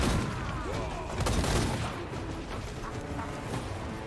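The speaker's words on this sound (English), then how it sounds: "See, Grom's gonna put an end to all this artillery madness" Artillery barrages in Total War Warhammer 2 pound away as a dense, continuous roar of booms and crackling gunfire, heavy throughout with no voices present.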